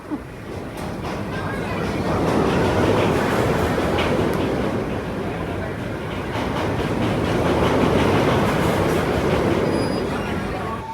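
Riding aboard the Tommy G. Robertson Railroad at Six Flags St. Louis: a steady, close rumble of train wheels and cars that swells and eases, with faint clatter and occasional squeal.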